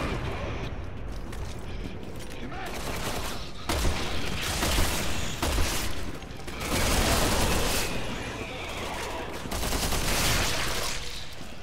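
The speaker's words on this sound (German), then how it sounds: "Drei gezielte Schüsse." Bursts of gunfire from the video game Resident Evil 6 crack out in loud clustered volleys, with rapid repeated shots, mechanical clacks and pauses between salvos over a game soundtrack.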